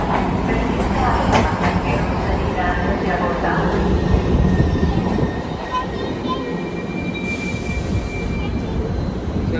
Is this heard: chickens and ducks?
no